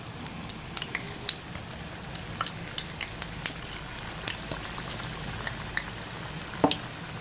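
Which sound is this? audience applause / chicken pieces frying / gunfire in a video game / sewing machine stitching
chicken pieces frying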